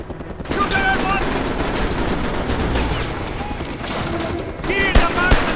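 Gunfire in the video game Mercenaries 2: World in Flames, set in Venezuela: rapid bursts of automatic weapons fire run through the whole clip, dense and loud, with voices calling out over the shooting.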